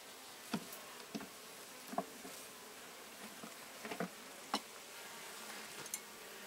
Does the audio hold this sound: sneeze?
no